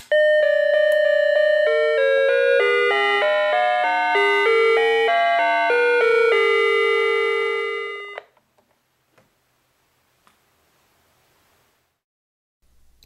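A Remote Wireless Door Entry Alert receiver (DCR2500) plays a melodic chime tune of clear electronic tones stepping through several notes for about eight seconds, then falls silent apart from a few faint clicks.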